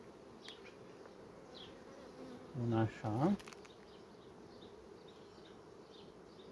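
Honeybees buzz around a hive in a continuous, moderately close hum, while a person briefly speaks a few words midway.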